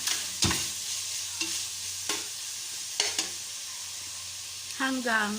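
Meat sizzles steadily in a hot pan while being sautéed for pinapaitan, an Ilocano offal stew. A spoon or spatula scrapes and clacks against the pan several times, and there is a brief bit of speech near the end.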